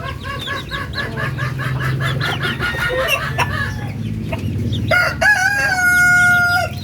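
Two-month-old native Darag chickens cluck in a dense, overlapping flock chorus, with a young rooster's crow rising clearly near the end, close and fairly loud with no talk.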